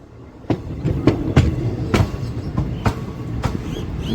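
The 58506 fast passenger train from Visakhapatnam to Gunupur rolls along with a loud, rhythmic clickety-clack of wheels over rail joints under a constant rumble, with no talking.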